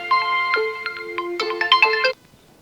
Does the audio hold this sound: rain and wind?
no